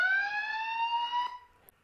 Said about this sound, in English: we can turn the siren on and off from this display.